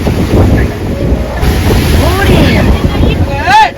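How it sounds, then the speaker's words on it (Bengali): Rough surf at Digha beach on the Bay of Bengal roars in a steady, loud wash of breaking waves, buffeted by heavy wind against the microphone while people speak over it. "আরো খুলছে কিন্তু জানো তো, আরো জল বাড়ছে, অনেক জল বাড়ছে।"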